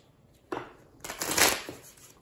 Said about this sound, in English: I would draw up, but I have to shuffle to get my second card